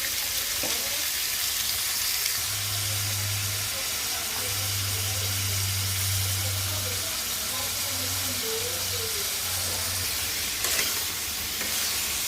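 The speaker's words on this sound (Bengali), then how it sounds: "এখন আমি তেল গরম করে করলাটা দিয়ে দিলাম" Bitter gourd seasoned with salt and turmeric fries in hot oil over medium heat, a steady close sizzle that fills the whole stretch with occasional stirring.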